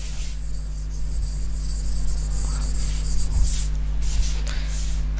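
Marker or chalk strokes scraping across a classroom board during a chemistry lesson, a steady faint scratching with a few brief louder rubs over a constant low electrical hum.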